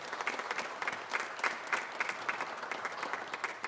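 A church congregation claps steadily together for several seconds, a dense, continuous patter of applause filling an indoor space.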